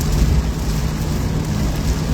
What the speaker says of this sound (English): Now the rain's let up a little bit, I can see more